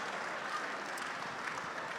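An audience at a charity ball applauds donors, giving a steady, even wash of clapping from many hands in a large room, moderately loud and unbroken for the whole stretch.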